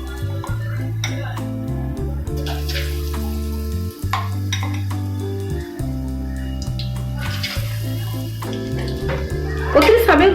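Spoonfuls of pakoda batter dropped into hot sunflower oil, crackling and bubbling faintly beneath louder steady background music, with a voice talking over it.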